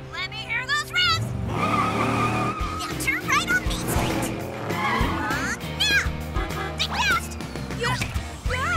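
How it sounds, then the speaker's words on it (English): A cartoon race car revs its engine hard amid squealing tires and skidding, with busy sound effects, music and animated voices layered throughout. "put the pedal to the metal. Let me hear those revs!"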